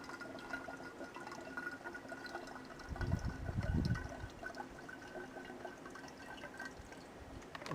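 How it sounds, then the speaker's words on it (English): Water runs into a bottle outdoors on a hike, faint and trickling, swelling briefly into a fuller gush mid-way before settling back to a quiet flow. "I'm going to finish filling this bottle up"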